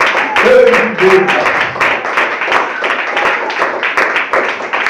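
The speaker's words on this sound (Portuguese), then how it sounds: "as palmas louvam ao Senhor Jesus Cristo" Worshippers in a church clap in praise, a lively run of sharp, fairly regular hand claps, near and loud, with a voice singing or speaking over the rhythm at the start.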